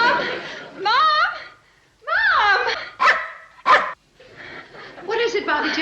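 A dog barks in short, loud bursts close by, several separate yaps with brief gaps between them, mixed with laughter and voices chattering.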